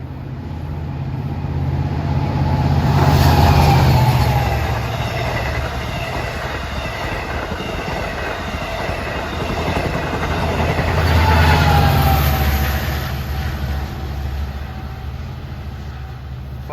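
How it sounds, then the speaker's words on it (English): An eastbound Long Island Rail Road train led by DM30AC locomotive 509, with a K5LA horn and another DM30AC on the rear, passes through Forest Hills station: a loud, steady rumble of engines and wheels that swells twice as the locomotives go by. "And approaching eastbound on track 2 is train 42, en route from Penn Station to Spionk."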